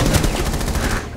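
Rapid gunfire from several players in the video game Rainbow Six Siege, heard as a loud, dense burst of overlapping shots lasting about a second.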